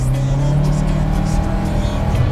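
A 2021 Polaris Ranger 1000XP utility vehicle engine drones steadily up close while driving, with a low, rumbling hum, continuous and loud throughout, with road noise underneath and no talking.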